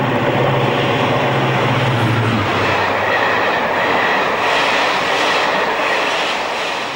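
A Class 55 Deltic diesel locomotive hauling a down express train, a loud continuous roar with rattling wheels and a deep engine drone that eases slightly as it passes.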